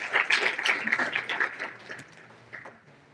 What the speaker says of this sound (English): So a big round of applause for all of you.